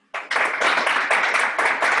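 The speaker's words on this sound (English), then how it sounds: "let's give a round of applause for the Rawalpindi" Applause from a book club audience in Rawalpindi, dense and steady, fading in after a brief silence and holding loud, continuous clapping throughout with small surges.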